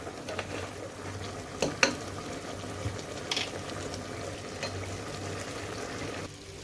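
Goat meat frying in a pot, a steady close sizzle and bubbling of oil running throughout with a few small clinks, and no talking.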